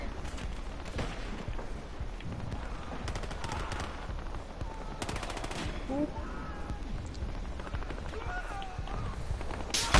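Rapid gunfire bursts from a Battlefield Hardline multiplayer match on PS4, dense and continuous across the whole stretch with overlapping shots, mixed under other game effects and occasional voices.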